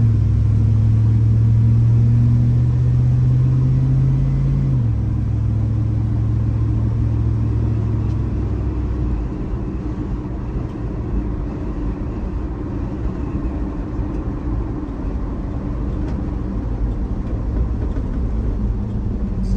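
LS-swapped Ford F150 pickup driving at low speed, its engine droning with a deep steady hum that shifts pitch early on, then settles into a continuous rumble with road noise.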